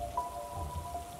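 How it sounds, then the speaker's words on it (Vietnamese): Steady heavy rain pours down through a thunderstorm, a dense continuous wash of drops with low rumbling beneath and no voices. "Cùng lúc đó là tiếng sấm chớp ầm ầm vang trên trời."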